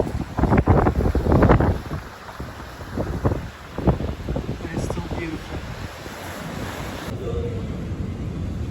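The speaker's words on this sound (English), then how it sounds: "Boy, the ocean's agitated." Rough, agitated ocean surf churns along the shore at Paul do Mar, Madeira, with gusty wind buffeting the microphone; loud, close wave crashes come in bursts, and someone speaks briefly over the roar.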